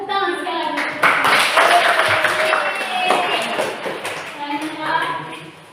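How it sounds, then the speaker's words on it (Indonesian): A classroom of students claps their hands together at the end of a lesson: a burst of brisk, fairly close clapping mixed with children's voices that swells, then tapers off. "Tepuk tangan sekali lagi."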